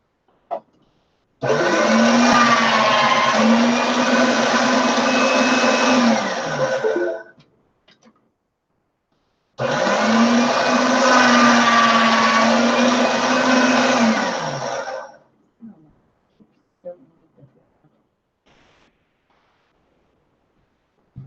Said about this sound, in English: I'm going to get it through the pasta machine just a couple times